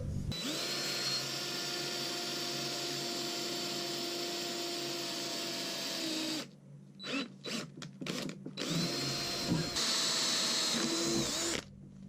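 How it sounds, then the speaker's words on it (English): A power drill whines steadily at close range while drilling holes in custom side covers for a GS850 motorcycle, then stops and restarts in short bursts, ending with another sustained run. "Just going to have to drill some holes now."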